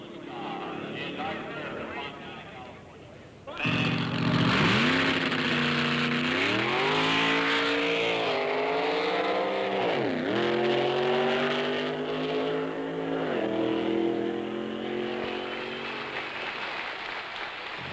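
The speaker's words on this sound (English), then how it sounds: "the factory experimental cars thrill the crowd as they lunge off the starting line and blast to 130 miles per hour" 1965 factory experimental drag racing cars launch off the starting line after a quieter stretch, their engines bursting into a loud, close roar that climbs and drops in pitch as they rev and shift.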